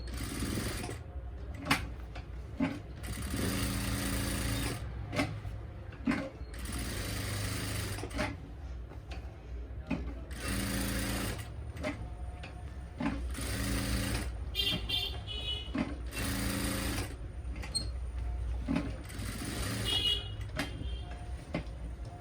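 A sewing machine stitches the hem of a salwar in repeated bursts of fast, rattling chatter, stopping and starting every few seconds. A faint voice is heard now and then between runs.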